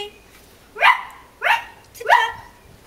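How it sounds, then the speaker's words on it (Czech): A dog gives three loud, close barks on command during a dog-dancing routine, evenly spaced about half a second apart, each a short sharp yelp with quiet gaps between. "Štěkej."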